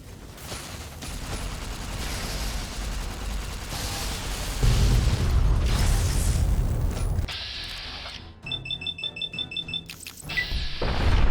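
A rocket blast in Fallout: New Vegas: Lonesome Road bursts as a loud, sustained boom with crashing debris and rumble, giving way to a series of sharp metallic clanks and a final sharp impact.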